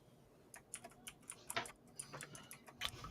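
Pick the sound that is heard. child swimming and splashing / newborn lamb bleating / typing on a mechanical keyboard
typing on a mechanical keyboard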